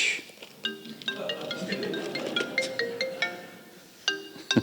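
A mobile phone ringtone sounds in a quiet retreat room, repeating a bright melodic pattern of several chiming notes at moderate loudness with little else around it.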